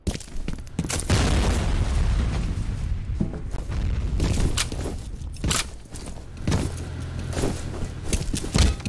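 A grenade goes off in the first-person shooter F.E.A.R. Combat, with a heavy boom near the start followed by bursts of gunfire, clattering impacts and further thuds in a busy firefight.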